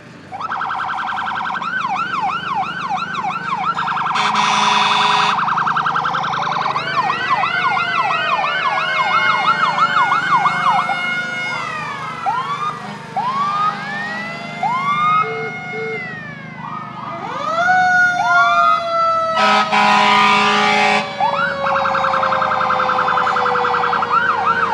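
A loud ambulance siren wails continuously at a fall foliage festival parade in North Adams, cycling through rising and falling tones with overlapping sirens and brief yelping bursts, close by.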